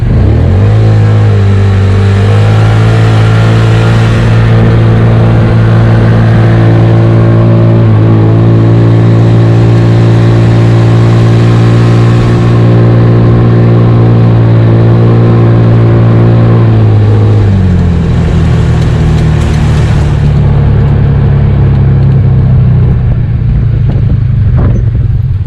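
Two Polaris Ranger UTVs, a 570 and a 1000, race side by side with loud, close engines droning and revving hard, the pitch climbing and then shifting as they accelerate, with no talking.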